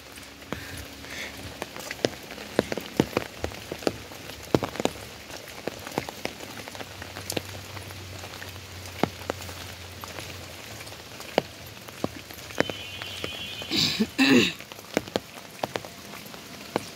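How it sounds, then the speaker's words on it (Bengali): Steady rain falling on a wet day, with scattered sharp drips and drops tapping nearby surfaces over a soft continuous hiss, plus a brief louder rustle near the end. "মানে বৃষ্টি তো হচ্ছে হচ্ছে এমন আর কি গুরুম গুরুম আওয়াজ"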